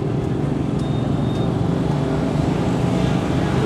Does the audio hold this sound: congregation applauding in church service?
no